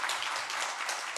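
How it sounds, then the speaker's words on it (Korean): Church congregation clapping together briefly for two members standing during a Korean worship service, a dense, even burst of applause filling the room. "우리 한 박수 한번 치기."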